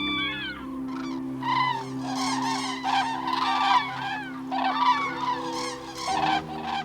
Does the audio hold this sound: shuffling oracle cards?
no